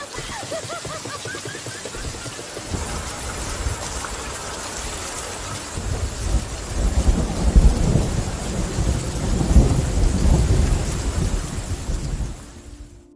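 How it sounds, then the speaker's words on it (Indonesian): Heavy rain pours steadily throughout a film scene at sea, with low rumbling thunder swelling in the second half before fading out at the end. "secara tak terduga hujan mulai turun sehingga membuatnya sangat bahagia"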